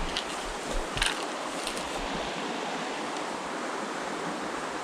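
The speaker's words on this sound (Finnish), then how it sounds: "Tuolla vähän virtaa nopeammin vesi." Small rapids on the Vantaa River rush steadily in a broad, continuous wash of flowing water, close and fairly loud, with a few brief splashy bursts near the start and no talking.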